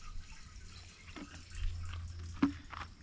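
Fuel stabilizer is poured through a funnel into a Sea-Doo GTX watercraft, making a faint trickle with a few soft drips, quiet and close, with no talking.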